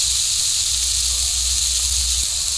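Spices and vegetables sautéing in a pan, a loud, steady broadband sizzle and hiss that stays constant and close with no voices.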